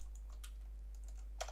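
Sparse, faint keystrokes tap on a computer keyboard over a steady low hum, with a slightly sharper cluster of clicks near the end.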